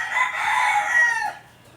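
Gamefowl roosters in a coop crow loudly and close, with clucking mixed in; one sustained crow fades into quieter background clucks.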